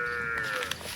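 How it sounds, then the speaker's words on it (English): A cow moos once in a brief, low, drawn-out call, close by and clear, outdoors on a Texas road trip through Big Bend; no talk. "That's a big old cow."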